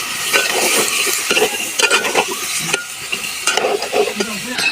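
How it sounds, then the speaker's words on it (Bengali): Potatoes and flat beans stir-fried in spiced oil, fast loud scraping and clanking of a spatula against the pan over a continuous sizzle, close and busy with no talking. "মশলা ভালো করে কষে গেছে, এখন দিয়ে দিব আলু আর সিম"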